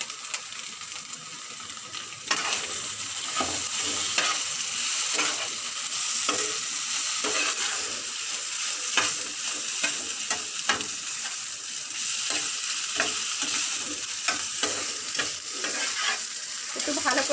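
Two small potatoes fry in a pan, with a loud, continuous sizzle and repeated scraping and clinking as the utensil stirs them at a close, irregular rhythm.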